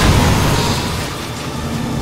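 Cartoon weapons firing and a large explosion, a dense, loud, rumbling blast that slowly decays over two seconds with no talk.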